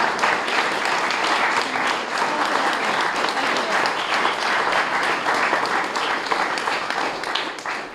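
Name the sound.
audience applause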